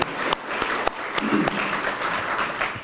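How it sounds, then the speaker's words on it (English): Audience applause for veterans at a WWII-era living history salute in Benicia, steady dense clapping throughout with a few sharper individual claps standing out. "Applause."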